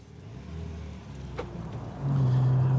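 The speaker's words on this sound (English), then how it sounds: "There's still that guttural flat six roar that flares briefly and then settles down into the usual pulsing beat." A 2016 Porsche 911 Carrera (991) with its flat-six engine runs in a steady mid-level drone, then swells into a louder, sustained roar near the end; no voices.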